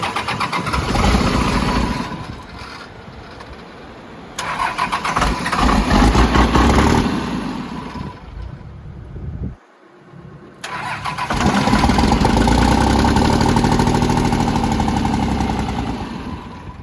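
A P-pump 24-valve diesel truck engine, long unused, cranks and fires up with a loud rough roar, briefly dies or dips near the middle, then restarts and settles into a steady, heavy idle close by.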